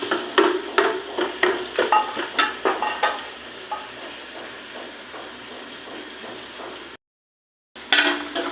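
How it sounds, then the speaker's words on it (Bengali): Onions fry in a pan for a pilau, with a steady sizzle and rhythmic scraping strokes of stirring that settle into a constant hiss, then a brief silence before the sizzling returns. "পেঁয়াজ ভাজা শেষ"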